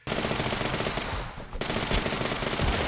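Submachine gun fire from a video game rattles in dense, rapid bursts, with a brief pause in the middle before the shooting resumes, loud and continuous with nothing else heard over it.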